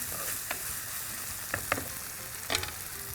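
Vegetables such as eggplant, drumstick and raw mango fry in a pan with a soft, steady sizzle, punctuated by a few sharp stirring clicks and scrapes of a utensil.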